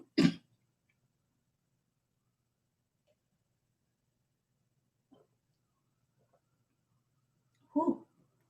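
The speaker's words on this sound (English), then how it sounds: "ending of my poem got interrupted by coughing" Two sharp coughs from one person, one at the start and one near the end, separated by long near-silence with faint breathing.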